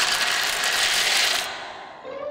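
Hatching chicks break through their eggshells with a continuous close crackle and crunch, loud at first and then stopping suddenly, leaving a quieter tail.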